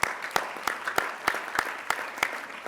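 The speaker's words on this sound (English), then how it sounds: "A round of applause for each and every one of you" An audience at a Father of the Year awards event claps, a sparse burst of individual handclaps with a clear, uneven rhythm, fairly close.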